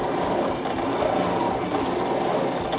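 A Brother ScanNCut cutting machine cuts out heart shapes with a steady, close mechanical whir and faint rapid clicking, unbroken from start to finish.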